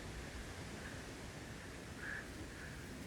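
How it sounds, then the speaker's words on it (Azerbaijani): Steady, even roar of the Muçuq mountain waterfall at the end of a steep hiking trail, heard from right underneath the falling water, a dense continuous wash of spray with no voices. "Bakın bakın, şəlalənin düz altına gedirik."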